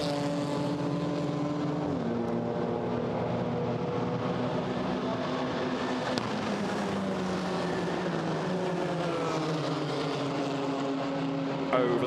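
GT4 race cars at the Monza circuit roar past, giving a loud, sustained engine drone with pitch sweeps as the cars pass. The sound is fairly distant and continuous, with no voices.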